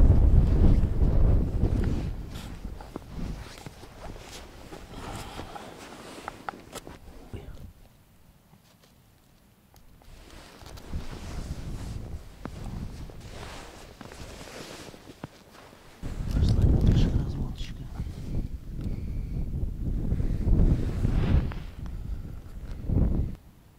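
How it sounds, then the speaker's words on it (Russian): Strong gusty wind at a lake buffets the microphone in rumbling surges that rise and fall, with quieter lulls and some indistinct voices underneath. "ветер, наверное, сильный задувает"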